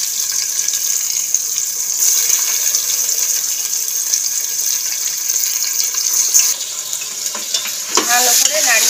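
Drained Gobindobhog rice being stirred and fried in a pan with fried cloves, cardamom, cinnamon and bay leaves; a loud, steady sizzle runs throughout, with scraping stir strokes and a sharper crackle near the end.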